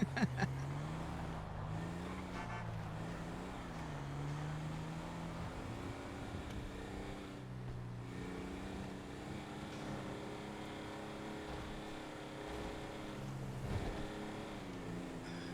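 A tow truck's engine idles and revs in a video game, a quiet low rumble with a few rises in pitch, steady and close without talk.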